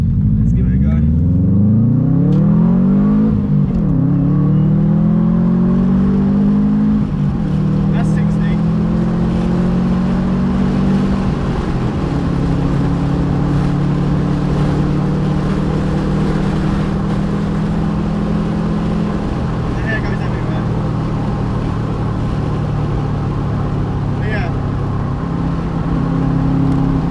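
A Subaru Impreza WRX Prodrive drives along a dual carriageway, its engine droning steadily and loudly from inside the car while the pitch climbs and drops through gear changes, with road and wind noise underneath.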